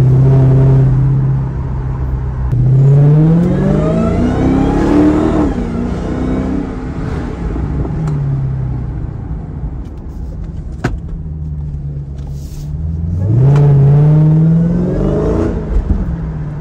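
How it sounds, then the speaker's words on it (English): A supercharged V8 Dodge Challenger Hellcat revs hard several times, a high rising supercharger whine climbing with each push of the throttle over a deep rumbling exhaust, close by. "You guys hear that supercharger whine? That sound is addicting as hell."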